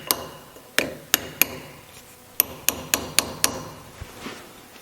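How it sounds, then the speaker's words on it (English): Hammer blows peening the flat of a lock tab over bolts on a Porsche 901 transaxle carrier: about a dozen sharp metallic taps, close and crisp, arriving singly and then in a quicker run, with no speech. "what we need to do is peen one of the flat portions to actually lock it"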